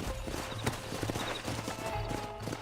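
Steady clip-clopping of horse hooves at a walking pace in Red Dead Redemption, close by, with a low background rumble and no talking.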